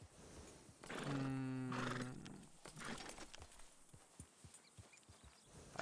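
A horse whinnies loudly in Red Dead Redemption-style roleplay game, followed by the steady clip-clop of hooves walking, with faint ambient sounds in the background.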